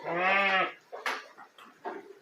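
A sheep or lamb bleats loudly and close by in one long wavering call on a farm where ewes are lambing, followed by softer, shorter animal noises.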